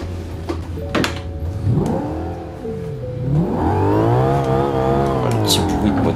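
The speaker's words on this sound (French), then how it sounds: "Petit bruit de moteur là" A car engine revs up and down in BeamNG, rising and falling in pitch with a loud whine, steady and close.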